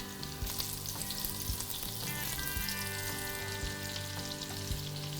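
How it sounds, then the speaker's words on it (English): Lamb meatballs browning in hot oil in a pan, a steady dense sizzle and crackle running throughout with occasional stirring, close and alone with no talk. "Just let those sizzle away till they're brown all around."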